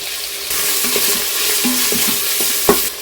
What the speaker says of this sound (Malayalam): വെളിച്ചെണ്ണ ചൂടായി വരുമ്പോൾ സവാള ഇട്ട് കൊടുക്കുന്നുണ്ട്